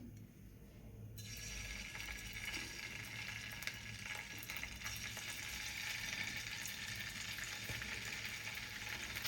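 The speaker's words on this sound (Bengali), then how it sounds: "আর একটু সাদা তেল দিয়েছি। এবার আমি মতিগুলো ভেজে নেব।" Small paneer balls frying in white oil make a steady, fairly quiet bubbling sizzle that sets in after a brief hush and holds evenly to the end, with no talking.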